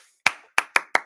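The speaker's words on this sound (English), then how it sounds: "I feel like there's the clapping." Four sharp hand claps, one alone and then three in quick even succession, crisp and close with short decays and no talk.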